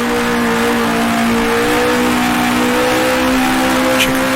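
A 1966 Formula One car in Grand Prix Legends drones loudly and steadily as it nears the final corner, its engine note holding a sustained harmonic whine with slight pitch shifts, with no voices.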